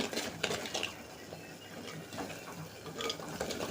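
Curry leaf paste stirred in oil in a pan, with soft scraping and clinking strokes over a low sizzle, fairly quiet.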